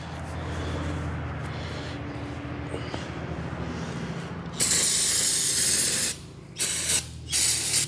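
A can of O'Reilly's brake cleaner hisses in loud, forceful sprays after a stretch of quieter background noise, with several bursts separated by short pauses.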